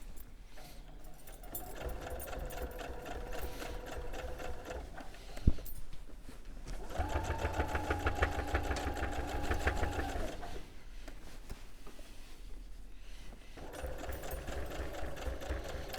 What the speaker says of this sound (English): I'm just going to do a top stitch down that seam that I've just turned back